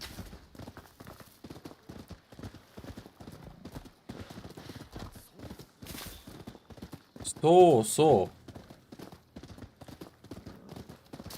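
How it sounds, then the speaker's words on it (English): A horse's hooves clip-clop at a steady walking rhythm in the video game Rise of the Ronin, with a short whinny partway through, while someone talks over the sound throughout. "Just hold your horse and character will automatically drop"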